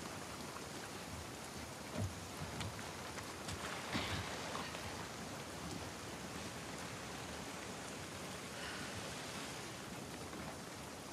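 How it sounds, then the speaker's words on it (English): Steady rain falls in The Last of Us Part II, a dense, even hiss that holds throughout with a few louder splashes near the start, and no voices. "Let's get out of the rain."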